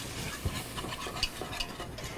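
Flour stirred into melted butter in a pan, a soft steady sizzle with light scraping strokes of a utensil, fairly quiet and without voices.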